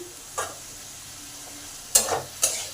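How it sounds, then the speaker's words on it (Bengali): Pointed gourd being stir-fried with a ground paste of poppy seed, sesame and cashew: a low, faint sizzle is broken by three sharp spoon scrapes against the pan, one early and two close together near the end. "এই মশলার সঙ্গে ভালো করে কষে নেব"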